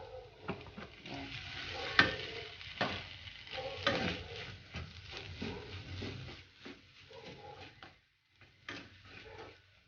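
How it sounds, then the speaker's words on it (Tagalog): Kimchi fried rice with kimchi juice stirred in a hot pan: repeated close spatula scrapes and shuffles over a sizzle, loud in bursts and dropping near the end, with no talk. "haluin ko lang yan ng kaunti"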